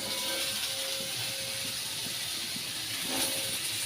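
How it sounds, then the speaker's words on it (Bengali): Potatoes fry in a pan in a home kitchen, giving a steady, close, broadband sizzling hiss that holds evenly throughout with no voices. "আলু ভাজছে"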